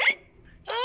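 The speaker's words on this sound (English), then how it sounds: "and now he has hiccups." A cartoon pig hiccups twice, once near the start and once near the end, each a sharp, close, loud burst with quiet in between.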